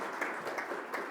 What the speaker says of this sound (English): So please clap for the rising learning curve